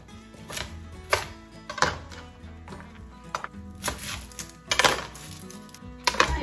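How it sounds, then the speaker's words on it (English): A knife chopping vegetables, including unpeeled onions, into large pieces on a cutting board for beef bone broth: a run of sharp, close, irregular chops and knocks of the blade hitting the board. "You'll notice I'm not cutting these very small at all."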